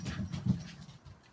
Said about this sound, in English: Please excuse my dogs, they're going to go in and out.